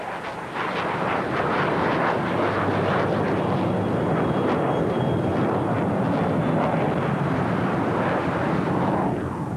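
A Yak-38 Forger jet roars steadily and loudly, a broad, rushing engine noise that builds in the first moment and then holds without a break.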